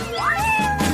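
A cat meows in one long, rising-then-falling call that stays loud and close from start to finish, with no voices in the background.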